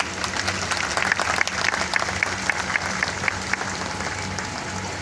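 Steady applause from a large audience at a hospital fundraising event, sustained and fairly loud throughout with a few sharper claps standing out and a faint murmur of voices beneath.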